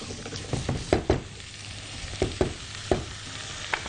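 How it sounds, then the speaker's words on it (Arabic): Mixed vegetables and onion being stirred in a pan, with a run of scraping, clattering spoon strokes in uneven bursts over a soft, steady sizzle. "حط عندي الخضار المشكل واقلب يا عمنا كل ده مع بعضه."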